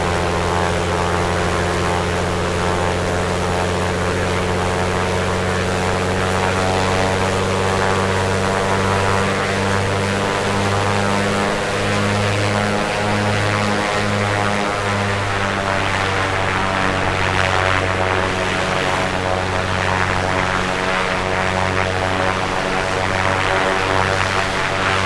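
Propeller airplane taking off in Microsoft Flight Simulator from a bumpy runway with crosswind at Gamston Airport: a loud, steady engine drone rises in pitch as power builds, continuous throughout with no talk.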